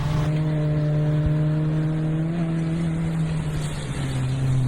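A rally car engine on a forest rally stage, held near full revs with a steady, loud, continuous drone and only slight shifts in pitch throughout.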